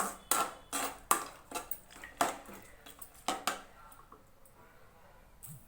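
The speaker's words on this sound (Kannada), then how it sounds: "ಈಗ ರೈಸ್ಗೆ ನಾನು ನಿಂಬೆಹಣ್ಣಿನ ಗೊಜ್ಜನ್ನು ಹಾಕಿ ಚೆನ್ನಾಗಿ ಮಿಕ್ಸ್ ಮಾಡ್ಕೋತಾ ಇದ್ದೀನಿ" A spoon repeatedly scrapes and knocks inside a pot as rice is stirred with lemon sauce for lemon chitranna, in close, irregular strokes with no one speaking.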